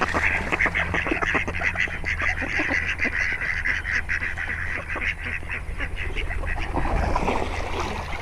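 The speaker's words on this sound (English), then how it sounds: "Sharon, what in God's green earth did you do those 2 ducks?" Two male ducks in mating season, competing for dominance over a female, quack and honk loudly and repeatedly at close range, a busy overlapping chorus of calls over low background rumble.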